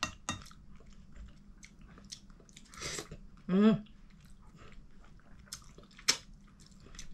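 Close, wet chewing and biting on food picked from the trash, with soft mouth clicks and an occasional clink of dishes, set between quiet murmured voices.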